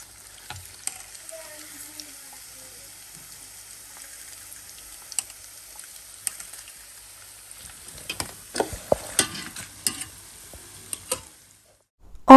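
Chicken burger patties fry in oil with a faint, low sizzle broken by scattered sharp pops and ticks, which grow busier toward the end.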